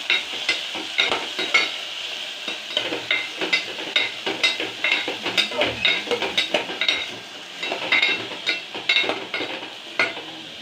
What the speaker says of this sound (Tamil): இந்த ஒரு கப் பச்சை மிளகாயும் போட்டு நல்லா வணக்கி விட்டுக்கலாம்